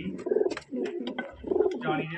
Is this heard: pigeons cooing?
yes